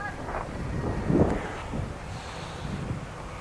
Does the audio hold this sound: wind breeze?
yes